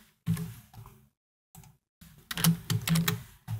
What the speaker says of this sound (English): when I'm typing, I usually have to stop talking in order to type